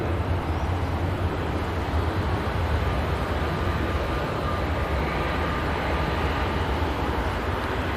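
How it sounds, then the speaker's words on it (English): An Emirates Airbus A380 passenger jet at Manchester Airport gives a loud, continuous roar that rumbles on at a steady level throughout, with no voices over it. "passenger aircraft on the planet, the Emirates Airbus A380"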